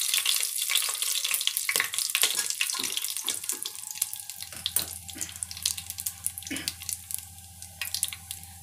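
Whole garam masala spices sizzle and crackle in hot oil for a vegetarian biryani, a steady close hiss with scattered sharp pops and spits, no talking.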